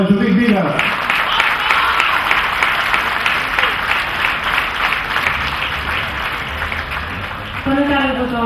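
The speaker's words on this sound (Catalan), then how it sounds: "Un aplaudiment per la Judit Vila." A crowd applauds Judit Vila, a former Pubilla of Figueres, at the town's Pubillatge election, loud, sustained clapping that swells between brief spoken bits at the start and end.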